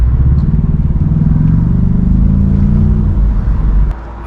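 A convertible driven with the top down gives a loud, close engine drone with wind rumble and slight rises in revs, then drops suddenly to a quieter idle near the end.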